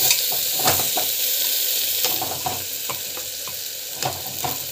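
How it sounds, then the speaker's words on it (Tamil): Onions sauté in hot oil for drumstick thokku, a continuous close sizzle broken by irregular scrapes and taps of a spatula against the pan. "வெங்காயம் போட்டுட்டு நல்லா வந்து வதக்கும்"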